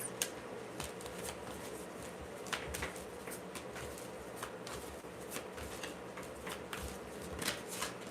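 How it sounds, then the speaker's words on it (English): Tarot cards are shuffled continuously, a steady papery riffling and flicking with small sharp snaps throughout, close and moderately quiet with no talk. "You see, I'm shuffling them."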